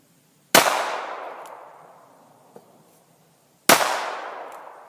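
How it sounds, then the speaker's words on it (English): Two loud, sharp reports from a Taurus Tracker .44 Magnum revolver, about three seconds apart, each with a long ringing decay outdoors. "I'm going to shoot the first 2 shots with my right hand, one-handed, and the other 3 shots with my left hand"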